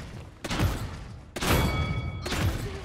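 Ash's normal shot in the game Paladins, three loud bursts of blast-like gunfire separated by short gaps, each with a booming low thump and a ringing tail.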